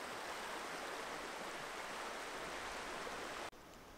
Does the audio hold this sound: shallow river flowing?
yes